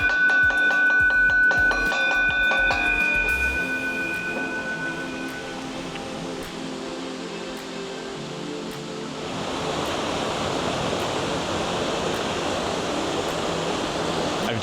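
Otaki waterfall, a large cascade in a lush Japanese forest along a historic hiking trail, roars as a steady, broad wash of falling water, with rattling handling noise at the start before the rush swells again.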